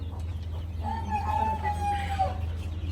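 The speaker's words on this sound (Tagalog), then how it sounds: "Daming manok. Native yan guys." Native chickens on a farm, with a rooster giving one long, clear crow over a steady low background hum and faint clucking.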